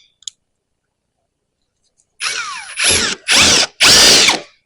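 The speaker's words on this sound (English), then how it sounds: "First thing I'm going to do is I'm going to take a bigger drill and try to just get this started" Power drill boring out a walking floor cylinder piston pin, heard as four short bursts of high whining drilling, each lasting about half a second with brief gaps between them, loud and close after a quiet start.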